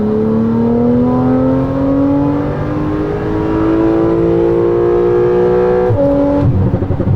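A Porsche 991.2 Carrera with the first-generation 9A2 engine, tuned to Stage 2, revs loudly and steadily, its pitch climbing for about six seconds before a sharp shift and a rougher burst at the end; nobody speaks.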